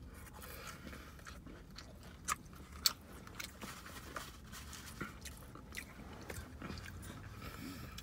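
Quiet, close chewing of Raising Cane's food during a mukbang, with soft crunches, bites and wet mouth sounds at an irregular pace and a couple of sharper crunchy peaks.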